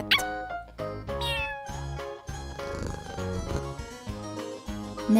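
A toy cat's recorded meows play over a jingly synthesized music track, several short meows in a row, fairly loud, with no talking.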